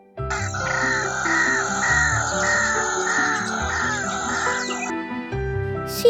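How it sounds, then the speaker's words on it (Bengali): A white-breasted waterhen gives a run of repeated harsh, raucous calls, loud and close, over a steady musical background. "ধানি মুরগিকে ইংরেজিতে বলে ওয়াটার হ্যান্ড"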